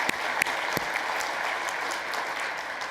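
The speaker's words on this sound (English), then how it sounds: "Did I hear a sort of a clap?" Audience clapping at a professional psychology association address, several sharp claps early on, then a softer, thinning spatter of hands fading out.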